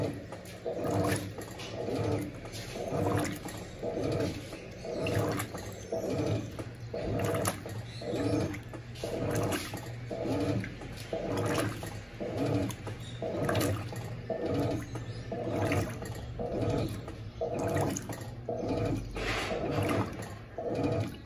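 An Electrolux Blue Touch 12 kg top-load washing machine runs its final agitation stage with a large mixed load, giving a steady churning, sloshing water sound in repeating surges. It is close and fairly loud, and no one speaks.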